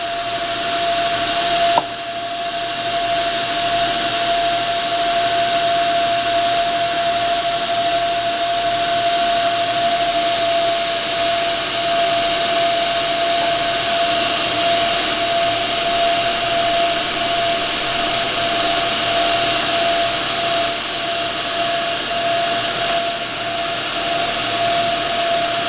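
A machine polishes the peripheral curve of a hard contact lens, giving a steady, loud whirring drone with a constant tone throughout, after a brief click near the start.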